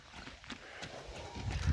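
A one-year-old Kyrgyz colt walks along a road, its hooves making soft, quiet clip-clops in an irregular rhythm, with faint low rumbling toward the end.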